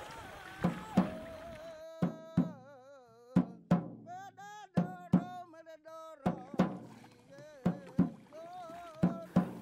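Paddles strike the water in a steady, repeated rhythm as a traditional boat is rowed together by its crew, with sharp, close hits under loud chanting or singing voices.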